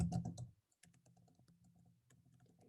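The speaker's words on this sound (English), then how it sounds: "my typing is not going good here, is it?" Typing on a computer keyboard, close and quiet, with rapid irregular key clicks in bursts, a short pause, then more steady tapping.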